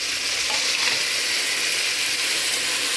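Onion, tomato, capsicum, coriander and mint sizzling loudly in a pan for chicken curry, a dense continuous frying hiss with occasional stirring, close and without talk.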